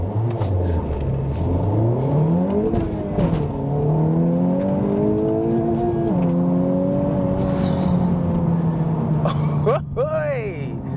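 Honda Civic Type R in R mode accelerating hard from a standstill, the engine note climbing steadily through gears with brief dips at each shift, loud and close from inside the cabin, no talk over it.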